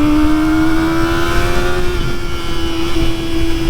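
Kawasaki ZX-4RR motorcycle engine held at high RPM, a loud, steady, high-pitched inline-four wail with a sustained tone and slight pitch wavering, close and continuous with no talk.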